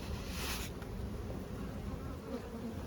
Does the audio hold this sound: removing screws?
no